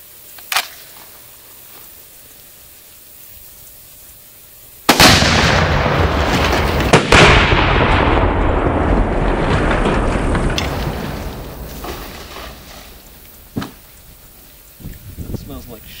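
A single loud, close rifle shot at an outhouse target, a sharp crack followed by a long, rumbling roar and debris noise that slowly fades over several seconds, with a few smaller knocks afterward.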